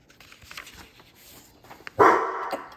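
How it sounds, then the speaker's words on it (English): A dog barks once, loud and close, a single sharp burst that rings out after a stretch of quiet indoor room noise. "There's my dog."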